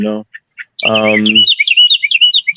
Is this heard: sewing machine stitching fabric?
no